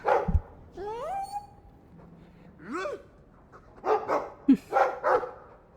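A dog in the video game Dragon Age 2 barks, yips and whimpers in a short series of rising, tonal calls, with faint game voices in the background.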